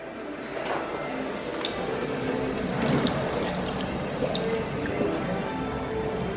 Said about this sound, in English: This water fountain review.